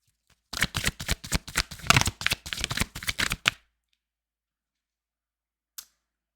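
Deck of tarot cards being shuffled, a close run of rapid crisp riffling snaps for about three seconds, then silence broken by one faint tap, with no talking.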